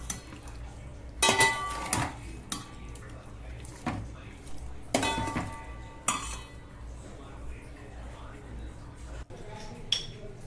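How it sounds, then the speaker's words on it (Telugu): Marinated chicken being mixed in a bowl for chicken pulao, with scattered clinks and scrapes of a utensil against the bowl and occasional louder knocks between quieter wet stirring. "ఇదిగోండి ఇప్పుడైతే అటు ఇటు మీరు చక్కగా కలపండి."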